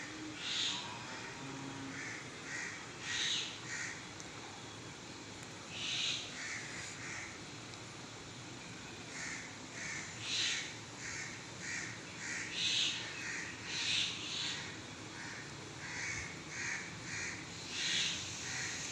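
Crows caw repeatedly in bursts of several calls, moderately loud and somewhat distant, over a constant outdoor hiss.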